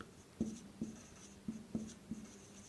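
Chalk or marker scratching on a board during a grammar lesson, a series of about five short, distinct strokes spaced unevenly, close and fairly quiet, with no voices.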